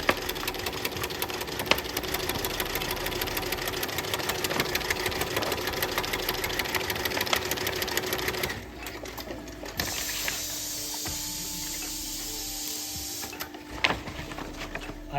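A Dürkopp Adler heavy-duty long-arm zig-zag sewing machine runs steadily up close with a dense, rapid mechanical clatter, then drops to a quieter, slower stitching rhythm partway through.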